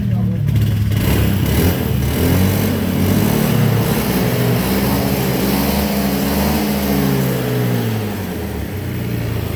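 Idling engine of a Honda Beat FI scooter with smoky exhaust and high fuel use, a steady, close, low mechanical drone with a slight rise and fall in pitch.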